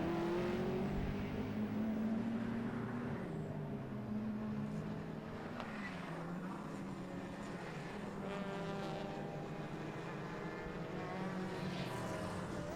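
A saloon race car passes at Oulton Park circuit, its engine note rising and falling in pitch as it accelerates, over a continuous mid-distance drone of racing engines.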